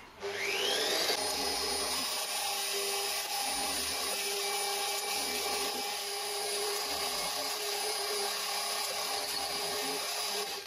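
A milling machine cuts aluminium joystick components, a high whining tone rising at the start, then a steady loud machining drone with singing overtones throughout.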